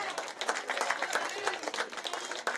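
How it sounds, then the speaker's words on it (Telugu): Many hands clap briskly at an outdoor Sankranthi festival closing ceremony, an uneven, busy stream of claps from a crowd with faint speech mixed in. "క్లాప్స్ కొట్టాలి."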